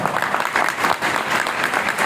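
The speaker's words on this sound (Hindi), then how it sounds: "एक बार दमदार वाले ताली के लिए बजा" A live audience bursts into loud, sustained hand clapping for about two seconds, a dense wash of applause with no one speaking over it.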